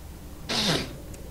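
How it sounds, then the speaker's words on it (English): A single short, breathy sniff from a person, sharp and close, standing alone against a quiet background. "I think that was me sniffing."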